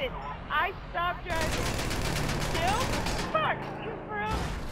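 Rapid bursts of gunfire at a car's tires ring out in GTA 5 Online, a dense clatter of shots lasting a couple of seconds. It is bracketed by excited talking before and after.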